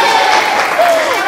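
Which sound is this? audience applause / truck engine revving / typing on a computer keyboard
audience applause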